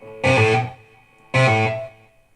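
An electric guitar played through a modulation effect on an old Behringer V-amp2, set heavy and swirly: two strummed chords ring out one after the other, each sustaining and then fading, loud and close.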